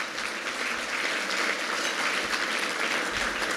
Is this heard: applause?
yes